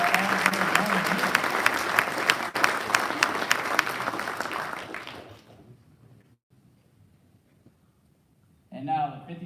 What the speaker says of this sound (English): Let's have another round of applause for all of our senior non-commissioned officers